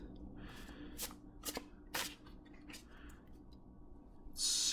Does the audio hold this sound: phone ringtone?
no